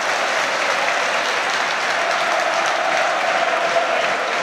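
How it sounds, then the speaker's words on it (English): Football crowd at a Premier League match between Brighton and Chelsea cheering and applauding Solly March, a dense, steady roar of clapping and voices without pause. "Listen to the crowd. They absolutely love Solly March."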